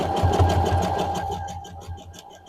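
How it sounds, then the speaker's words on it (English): A sewing machine runs steadily while lock stitching the seam of a pair of leggings, a continuous close, loud whirring drone that eases off slightly toward the end. "And then just lock stitch at the end."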